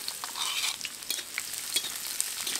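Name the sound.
chopped onions frying with whole spices for khichuri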